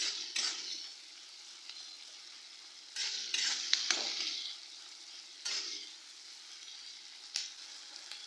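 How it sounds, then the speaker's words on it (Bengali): Onions frying in a pan for chicken curry with potatoes, a faint soft sizzle broken by several bursts of spatula stirring and scraping, quiet between strokes, with no talk. "পেঁয়াজগুলোকে খুব বেশি লাল করে ভাজবো না।"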